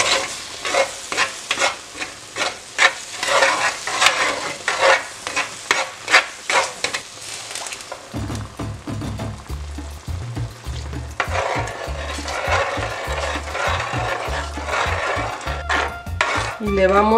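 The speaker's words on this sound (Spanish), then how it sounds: "Y le vamos moviendo." Mole sauce in a cooking pot is stirred with a wooden spoon, rhythmic scraping strokes first, then a steady bubbling sizzle under continued stirring, close and fairly loud.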